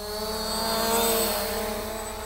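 A CSJ X7 GPS camera drone flies nearby with a steady, high-pitched propeller whine, loud and constant with no other sounds.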